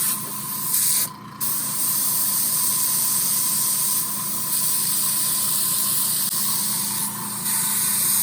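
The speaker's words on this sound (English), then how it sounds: "Give it a little spray here." Aerosol spray paint hissing steadily onto an illustration, a close, continuous spray held for several seconds with one brief pause near the start.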